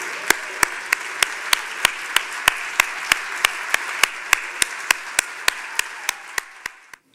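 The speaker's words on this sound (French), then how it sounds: "qu'on puisse vous applaudir, tous les nouveaux" Sharp, evenly spaced claps, roughly twenty in a steady rhythm, ring out over a washy background before stopping abruptly.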